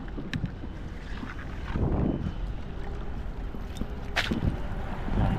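Steady wind roars across a Taiwanese seashore at low tide, a broad continuous rush with gusts swelling and falling, and a few faint knocks and clatters in the background.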